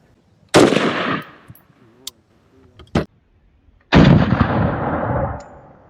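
Two loud, sharp bursts of fire from a civilian AK-style rifle in 5.45 calibre, a few seconds apart, each with a long rolling echo, plus a couple of fainter single cracks between them.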